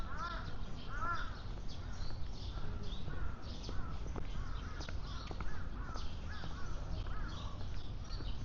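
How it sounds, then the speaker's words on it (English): Crows cawing repeatedly at Beijing zoo, harsh calls overlapping at moderate distance over a steady crowd murmur and background chatter. "I guess they have birds here now."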